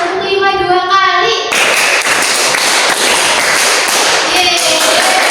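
A classroom of students claps together in a counted rhythm, a dense burst of sharp, overlapping hand claps that carries on steadily after a brief voice at the start.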